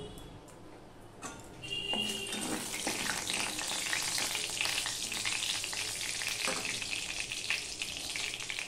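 A dried red chilli and two bay leaves sizzle in hot oil in a pan, a steady soft hiss that swells after a brief clink and stir, with faint crackles over a quiet kitchen background.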